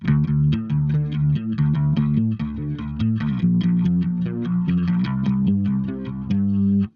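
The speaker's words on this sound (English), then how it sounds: "Depending on the day, I might play the bass multi-chorus," A Lakland 4401 bass guitar plays a steady, repeating riff through a shimmering multi-chorus pedal effect, notes rolling evenly and close, with no voices.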